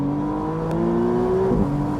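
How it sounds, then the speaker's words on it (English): A 2025 McLaren Artura Spider's engine in sport mode hums and rises in a short rev, steady and fairly close, with a brief tick partway through. "put everything into sport mode and be a little bit wild."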